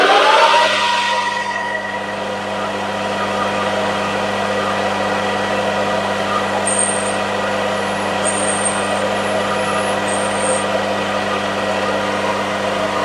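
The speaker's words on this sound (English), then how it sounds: "let's get this 14mm hole drilled" A drill bores a 14mm hole, a steady droning motor hum with a constant whine, louder at the start, then running evenly with faint high squeals appearing partway through, no talking.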